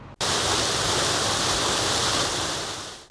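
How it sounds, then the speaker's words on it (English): A beautiful waterfall roars steadily, a dense wash of rushing water that starts abruptly and holds loud and even throughout. "an establishing shot of a beautiful waterfall"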